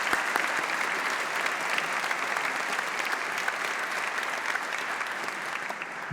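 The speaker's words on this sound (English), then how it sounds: "You can now applaud each other freely." Steady, dense applause from a large graduation audience at a university ceremony, continuous and even for the whole stretch with no voices on top.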